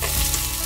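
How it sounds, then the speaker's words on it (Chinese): Beef brisket stir-fried in a wok, a loud close sizzle with scraping stirring throughout a short moment. "加入牛腩拌炒， 拌炒至牛腩半熟为止"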